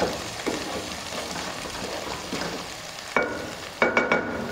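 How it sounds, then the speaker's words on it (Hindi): Onions browning in a pan for a chicken dish, a continuous crackling sizzle with occasional stirring scrapes, near and moderately loud, ending in a few sharp clanks of a utensil. "ये प्याज अच्छा सा ब्राउन हो गया।"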